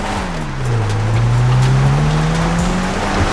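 A car driven in GTA 5 sounds its engine in a steady, loud drone that dips and climbs slightly in pitch as it moves, close and continuous with no talking.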